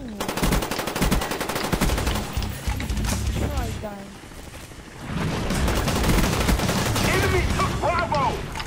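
Automatic gunfire from the Call of Duty Black Ops game, with bursts of rapid shots in two stretches and voices talking over the shooting.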